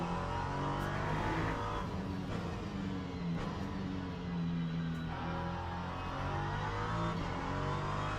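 LMP3 prototype race car in a video game at Fuji, its engine droning loud and close through a chicane with repeated throttle lifts and re-acceleration, the pitch rising and falling with gear changes.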